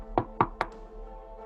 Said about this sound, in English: there's a very different sort of knock at the door